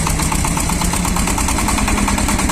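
Close, loud running of a Shifeng 240 mini tractor engine with its rotary tiller working a garden plot, a constant chugging drone with rapid regular pulses and a low vibrating hum, no voices.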